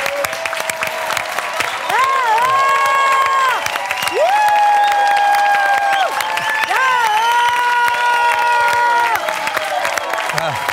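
Audience in a studio greets a singer with sustained applause and cheering: a loud, dense clatter of hands under rising whoops and sung, held shouts from the crowd that swell and fade in waves.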